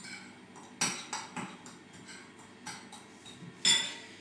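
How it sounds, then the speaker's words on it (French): Clinks and taps of a utensil against a bowl while the two ingredients for goat cheese crisps are mixed, a few sharper knocks standing out among softer scraping, close and moderately quiet. "Mélangez les 2 ingrédients."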